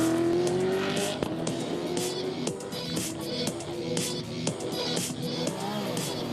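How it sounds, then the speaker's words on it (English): A race car runs on the circuit during the Omnitel 1000 km endurance race in Lithuania, with engine roar shifting through gears, revving hard alongside tire squeal and sharp mechanical bursts, loud and close throughout. "the Agila car has been fixed and it's back on the track"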